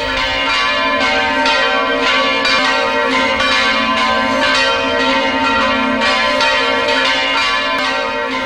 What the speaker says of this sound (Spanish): la canonización de San Charbel, las campanas tocaban en todas las ciudades y pueblos del Líbano.